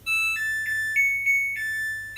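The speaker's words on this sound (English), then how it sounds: "If you have a washing machine, it probably makes it sound like this whenever it's done." A washing machine's end-of-cycle chime: a short electronic melody of clear, bright tones stepping through a few notes.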